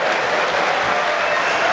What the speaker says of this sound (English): Standing ovation from the Crucible crowd.